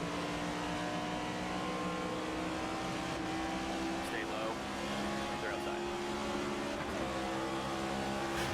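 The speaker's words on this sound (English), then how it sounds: "as you get closer to the wall, you can hear that reverberation in the car as he gets closer to the wall" A NASCAR race car in the NASCAR 25 video game drones steadily at speed with a reverberating engine tone running close along a wall, while voices speak briefly over it.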